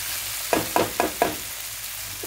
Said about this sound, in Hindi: अब हम इन सब्जियों को बहुत अच्छे से मिक्स करेंगे।